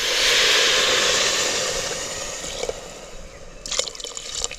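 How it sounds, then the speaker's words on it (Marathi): Water pours steadily into a pan of vegetables for pav bhaji with a broad hissing splash, fading after a couple of seconds into scattered drips and light clinks. "आता पाणी घालू"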